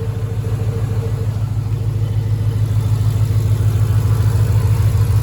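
A supercharged 3V Ford Mustang GT V8 with a 6R80 swap idles right after its first boosted startup, a loud, steady, deep close-up rumble that holds even throughout with no voices.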